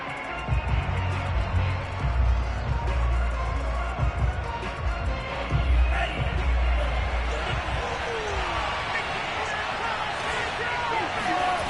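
Stadium crowd roar in a Madden football video game before a Baltimore Ravens versus Denver Broncos matchup, a dense, steady wash of crowd noise with some thumps and cheers throughout.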